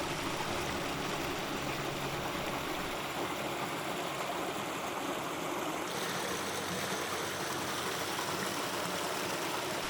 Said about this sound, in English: a perfect place to pause and take in the sound of rushing water